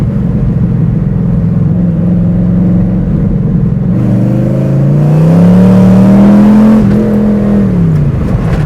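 A V8-swapped Pontiac Fiero, an overheating car, drones loudly from inside while driving, its engine note climbing steadily as it revs up, then easing back down; no talk over it.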